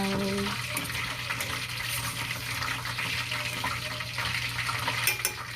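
A pot of soup, a broth with egg, comes to a boil, giving a steady close bubbling and hissing with a constant low hum underneath and no talk.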